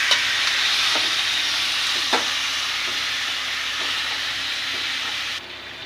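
Chicken pieces frying in oil until browned, a loud continuous hiss with faint periodic taps of the spatula against the pan, and no talking.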